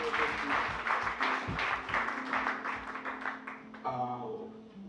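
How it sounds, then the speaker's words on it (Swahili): A church congregation at a Sunday service claps in loud, rhythmic applause that fades out near the end, with voices heard under it. "Pigia Yesu makofi. Acclamons Jésus."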